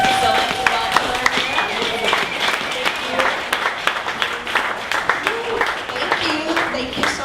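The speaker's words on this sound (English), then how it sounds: "So another big round of applause for Megan from AVA." Audience applause welcoming a presenter at a Dallas startup pitch event: a room of people clapping at a steady pace for several seconds, with some talk mixed in underneath.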